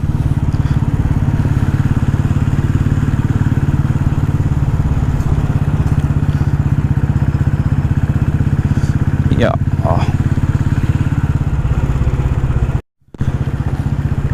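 A motorcycle engine drones steadily up close while riding, with wind rumble, a few brief clatters, and a sudden short dropout near the end.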